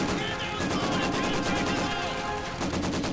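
Maxim machine gun crew firing in a World War II real-time strategy game, a loud, dense run of rapid automatic bursts layered with other gunfire and impacts, sustained without pause throughout.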